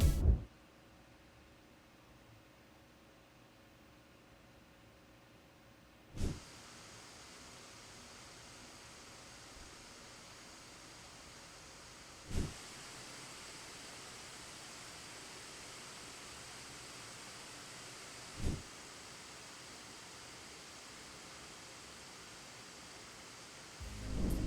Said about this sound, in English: Here's a quick sound test of the laptop across all 4 modes.